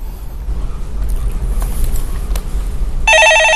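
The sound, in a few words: telephone ringing on a phone-in show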